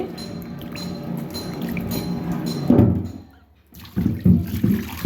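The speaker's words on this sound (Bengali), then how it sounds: "আর মাছগুলো হলুদ একটু ধুয়ে নিচ্ছি" Pond fish are rinsed with turmeric in water, giving splashy sloshing and light clinks of a pot or bowl in bursts, with a short quiet pause before more close, uneven splashing.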